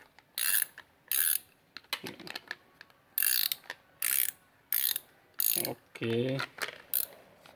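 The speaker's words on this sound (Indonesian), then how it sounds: "Ini ratchet yang multi pro yang combination ratchet Warren yang single gear ini, arah putarannya itu bisa kanan dan kiri ya." A Multipro combination ratchet wrench, single gear and reversible, clicks in repeated short bursts as it is turned back and forth, loud and close, with a short spoken word between bursts.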